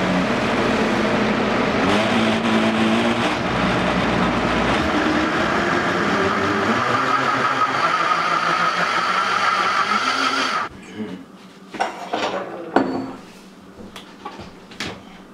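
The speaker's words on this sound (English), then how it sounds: "you're gonna mix it up on a low setting in your blender." A blender mixing tamarind juice whirs loudly and continuously for about ten seconds, then cuts off, followed by a few scattered clinks and knocks.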